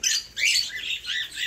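Several parrots squawk and screech loudly in a large master cage as they move around, in repeated harsh bursts close by with no talking.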